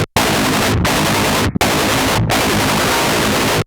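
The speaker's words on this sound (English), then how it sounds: "reamping through Lance's preset on Axe FX2 and switching the Cab IR off so that it sounds like this." Metal guitar reamped through an Axe FX2 preset with the cab IR off: harsh, fizzy, full-band distorted chugs in three sustained chunks separated by short silent gaps.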